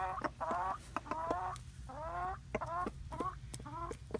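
A rooster and hens give loud, drawn-out clucks and squawks in quick repeated bursts, close by, while scrapping over a mouse in a coop.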